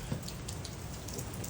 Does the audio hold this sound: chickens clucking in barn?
no